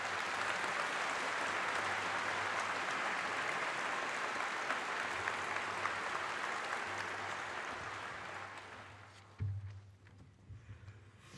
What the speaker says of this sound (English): the students and the public should give them a big round of applause